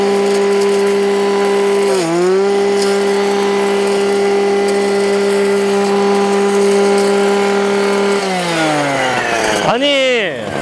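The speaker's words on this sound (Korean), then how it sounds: "지금 50cc가 넘어가는 엔진 예초기의 성능이 이만큼이다." A Husqvarna 555 engine brush cutter with a 53cc two-stroke motor and double handles runs at high, steady revs, its loud buzzing drone dipping briefly near the start and again toward the end before revving back up.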